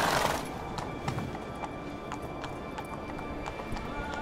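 Hooves of Roach, Geralt's horse in The Witcher 3, clop in a steady galloping rhythm over a low ambient game soundscape, opening with a brief louder burst.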